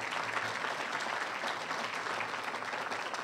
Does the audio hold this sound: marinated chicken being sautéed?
no